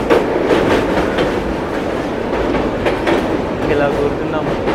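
A passenger train on the Visakhapatnam to Araku line rolls along in a steady, loud rumble with rhythmic wheel clatter, heard from inside a general coach, with people talking over it.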